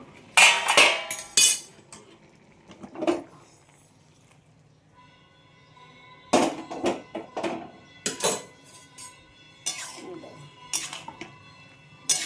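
Potatoes tipped into a pan of ridge gourd for a poppy-seed curry, giving bursts of clattering metal-and-utensil clinks in separate clusters with quiet gaps between, close by and moderately loud.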